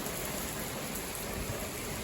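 Steady rain falls on a garden, a dense, even hiss of drops hitting soil and leaves that holds at the same level throughout with no voices.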